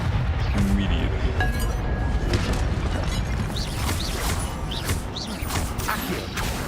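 Spell effects from Hogwarts Legacy, with Accio, Incendio and Levioso cast one after another: a dense, steady run of magical whooshes, metallic clinks, creaks and low booming bursts that fills the whole stretch at close range.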